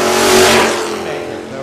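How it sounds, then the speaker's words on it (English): Ford Galaxie 66 drag car with a big block 460 engine, loud and close, a single surge of engine roar that swells and then eases over a couple of seconds, with an announcer talking over it. "Lee Jones in that Galaxy 66 with the big block 460"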